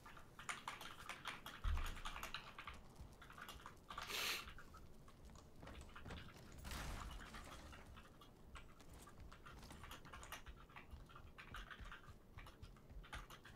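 Typing on a Cooler Master mechanical keyboard with brown switches, quiet rapid key clicks in irregular bursts with a couple of louder thumps, faint throughout.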